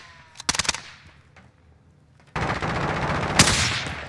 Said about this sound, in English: They're sniping across, man